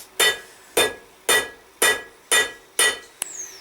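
A 1.5 kg hammer forges hot steel for the prongs of a BBQ grilling fork, six sharp, ringing blows at an even, steady rhythm, close and loud, followed by a lighter tap.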